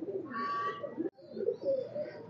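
Pet pigeons kept at a home coo close by in throaty, rolling phrases. One brief pause splits the run into two bursts.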